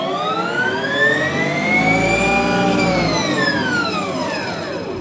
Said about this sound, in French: on va l'essayer sur un banc, elle est posée sur des rouleaux. On accélère